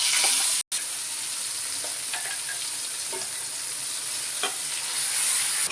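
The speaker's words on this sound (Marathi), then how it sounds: "तेल सुटेपर्यंत असं भाजून घ्यायचं" A ground spice paste roasting in ghee with cumin for matar paneer, a steady loud sizzle that continues unbroken apart from one brief dropout, with a few faint scrapes of stirring.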